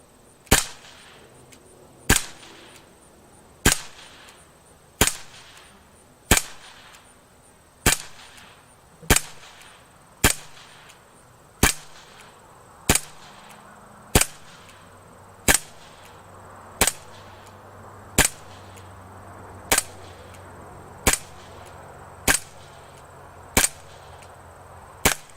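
Sixteen sharp pops from a Umarex SA177 BB air pistol fire at a steady, unhurried pace indoors, each crisp and close with brief decay and no speech between shots.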